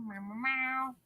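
A human voice imitates a cat, giving one drawn-out nasal meow that rises in pitch partway through before trailing off, close and fairly loud with no other sounds.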